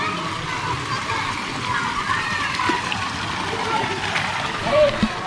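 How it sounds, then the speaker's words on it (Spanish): Water splashes steadily from dragon-mouth spouts into a pool at hot springs in Bali, a continuous close wash of splattering with faint voices and a brief louder slosh near the end. "que cae agua de las bocas de estos dragones"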